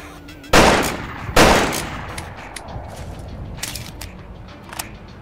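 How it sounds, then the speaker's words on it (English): The Railroader, a Gauss gun in the Roblox game After The Flash: Wintertide, fires two loud sharp energy blasts about a second apart, each trailing off, followed by quieter mechanical clicks. "It is a Gauss gun called the Railroader."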